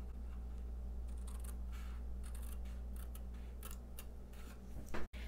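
Scissors cut through paper for a Halloween treat box, straight up to a score line: faint, quiet, irregular snips and clicks against a low steady room hum, with one sharper click near the end.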